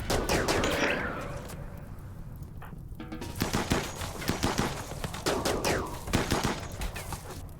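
Colonists firing guns at wendigos in RimWorld: rapid bursts of gunfire crackling in quick volleys across the whole stretch, loud and dense, with brief lulls between clusters of shots.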